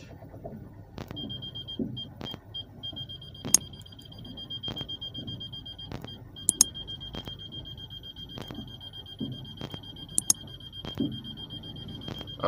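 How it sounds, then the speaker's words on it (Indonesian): Short electronic beeps repeat at a steady, quickening pace over a low engine rumble, a car's parking sensor warning while reversing into a narrow garage. "Alarm dah bunyi, itu makin dekat guys."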